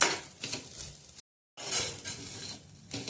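Grated coconut dry-roasting on low heat in a pan for a Malvani chicken curry, soft rustling stirs and light scraping with a faint sizzle, close and steady, broken by a brief silent gap.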